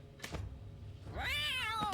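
A cat meows in the video game XCOM 2, one clear rising-and-falling meow near the end after a couple of short soft clicks.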